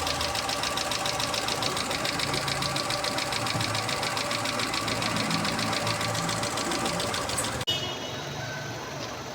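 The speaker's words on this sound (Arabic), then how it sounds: "ادي كده المكنه دايره اهي" A Chery Tiggo 3 engine runs steadily after its piston rings were replaced, with a fast, even ticking valve clatter over a constant hum. One sharp click near the end is followed by a quieter, smoother run.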